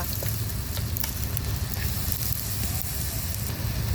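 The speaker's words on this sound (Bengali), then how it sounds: "পেঁয়াজটা ভালো করে ভেজা নেই" Chopped onions fry in a pan in a large batch of biryani being cooked for forty people, giving a steady, dense sizzle that stays loud and even from start to finish with no voices.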